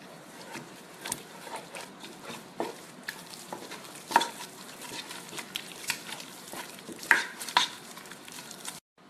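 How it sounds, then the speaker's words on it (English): Eggs being mixed one at a time into churro dough in a pan, a steady stirring and scraping with irregular soft knocks and a few sharper clacks of the utensil against the pan, close and moderately loud. "we're going to add in these 3 eggs one at a time and really mix them into our dough"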